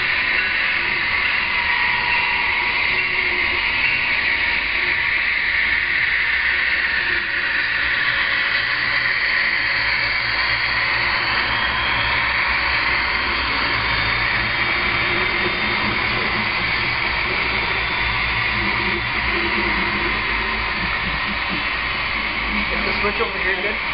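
A CP ES44AC diesel locomotive engine drones steadily and loudly throughout, with a continuous low rumble and a hissy upper layer, running alone without speech.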